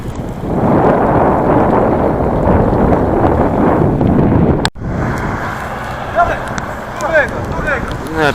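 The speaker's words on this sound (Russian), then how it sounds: "Ветер сильный." Strong wind buffets the microphone in a loud, steady roar in an open field in Gansu, China, then suddenly drops away, leaving a quieter gusty background with faint chirps.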